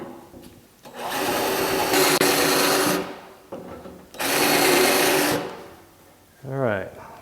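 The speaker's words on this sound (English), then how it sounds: "you can do is kind of steer the drill bit a little bit" Two long bursts of a power drill whining loudly through sheet metal spot welds on a 1950 Chevy truck fender, separated by a pause, with a brief spoken voice at the end.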